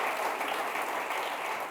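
A church congregation claps together in a dense, even wash of applause that fills the room for a brief moment without pause.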